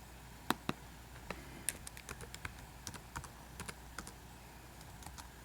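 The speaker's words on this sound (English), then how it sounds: "So I'll type that in the chat box here." Someone types on a computer keyboard into a chat box: soft, irregular key clicks in quick runs, quiet and close, with no talking.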